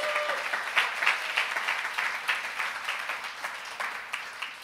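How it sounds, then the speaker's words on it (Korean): Church congregation at a Friday worship service clapping for the worship team, a dense, even wash of applause from many hands, fairly loud and sustained with no speech over it. "우리 예배팀에 박수 한번 쳐주세요."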